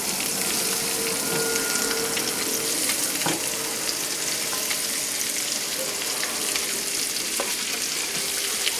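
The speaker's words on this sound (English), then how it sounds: "We're going to saute them up a little bit." Vegetables sautéing with bacon in a pot, a steady close sizzle and crackle of frying with occasional stirring clinks and scrapes, no voices.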